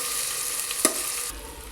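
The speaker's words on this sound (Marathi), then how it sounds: "आता ब्राऊन होऊ द्यायचे कांदे।" Onions sizzling in a pan as they brown for egg biryani, a steady close frying hiss with a small clink of a utensil partway through.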